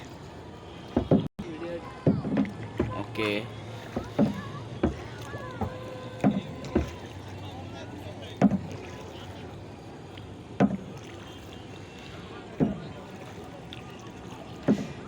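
A wooden rowing boat moves across water at night, with repeated oar knocks and splashes spaced every second or so, a low steady hum beneath, and people talking throughout.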